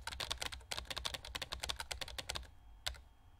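Rapid, close keyboard typing in the Emily is Away 3 video game clatters in a dense stream of keystrokes, stops briefly, then one last key click follows.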